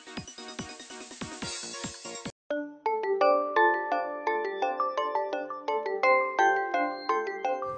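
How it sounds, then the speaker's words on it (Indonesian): A mobile phone ringtone plays a bright, repeating melodic chime pattern, loud and close, switching to a different plinking tune partway through. "Bentar, telepon gue bunyi nih."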